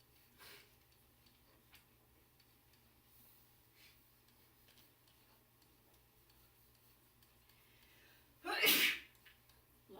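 A single sharp sneeze bursts out suddenly near the end of a quiet room, with faint ticking and low background hum before it.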